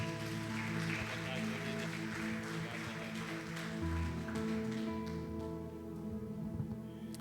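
A church congregation applauds during a Portuguese-language service, a steady wash of clapping that runs for several seconds beneath sustained keyboard or organ chords.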